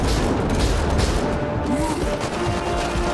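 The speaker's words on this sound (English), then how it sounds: "What are they shooting at us for?" Sniper and outlaw gunfire in the sci-fi shooter Mass Effect Andromeda rattles nonstop in dense, overlapping bursts with heavy booms, loud and unbroken throughout.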